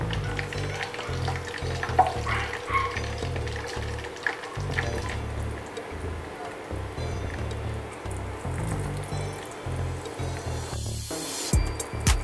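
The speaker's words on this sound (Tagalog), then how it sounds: "pipirituhin na natin ang ating meatballs" Meatballs fry in plenty of hot cooking oil, giving a continuous crackling sizzle with occasional stirring pauses and bursts of spatter, close and steady for several seconds, with no talk.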